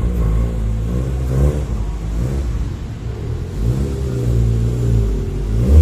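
A car drives uphill over a speed bump. Its engine revs up and eases off in a loud, close, steady rumble, with no voices.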